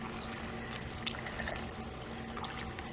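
Two cups of water pour into a roast pot for a Mississippi roast, a soft steady splashing trickle heard close and fairly quiet for a few seconds, with no talking.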